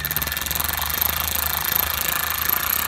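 A Milwaukee M12 cordless 3/8-inch ratchet (2457-20) slowly drives a bolt into an automotive part, giving a steady, close, rapidly pulsing mechanical buzz that runs without a break.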